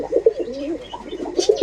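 Racer pigeons kept in an old loft cooing in soft repeated low throaty phrases, close by, with a brief brighter chirp near the end and no talking.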